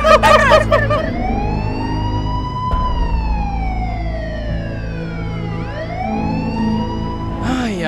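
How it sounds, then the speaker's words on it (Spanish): A police car siren in a game scene, wailing with long rising and falling sweeps as it approaches, loud and steady throughout, with a low vehicle rumble underneath and no clear talk over it. "¿Escuchan eso? ¡Se está acercando un carro!"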